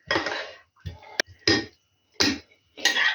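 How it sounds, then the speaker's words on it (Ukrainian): A spoon scrapes and clinks against a pan while onion and garlic are stirred together, in five separate broadband bursts, close and fairly loud, with short silences between strokes and a brief sharp metallic clink. "перемішаю оце цибулю з чесником тут гарненько"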